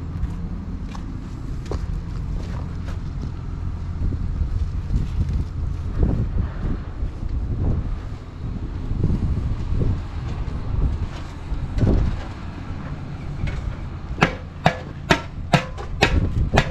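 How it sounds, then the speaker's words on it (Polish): Strong wind buffets the microphone outdoors at a scrapyard, a constant low roar with gusts and occasional clanks and footsteps, followed by a few sharp metallic taps near the end. "mało wieje dzisiaj, nie? No, piździ."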